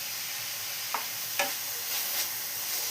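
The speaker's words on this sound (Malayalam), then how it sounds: "ആദ്യം ഇതിലോട്ട് സവാള ഇട്ടൊന്ന് വഴറ്റിയെടുക്കാം." Four chopped onions with a little salt sizzling and being stirred in hot coconut oil for chicken keema, a steady close frying hiss broken by a few scraping stirs of the spoon.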